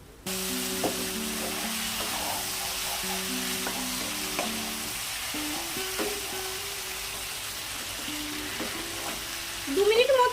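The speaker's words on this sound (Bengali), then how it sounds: "এই মশলাটির সঙ্গে দু মিনিট মতো ভালো করে মিশিয়ে ভেজে নেব" Ridge gourd frying with a spice mix of sesame and poppy seed in a pan: a continuous sizzle with occasional stirring scrapes and a steady tone humming underneath.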